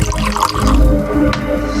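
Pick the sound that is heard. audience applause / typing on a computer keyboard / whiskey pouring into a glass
whiskey pouring into a glass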